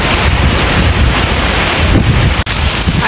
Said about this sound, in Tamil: அடிக்கிற காற்றுல இந்த கம்பை இழுத்து நடக்க கூட முடியல, அந்த மாதிரி ஒரு காற்று.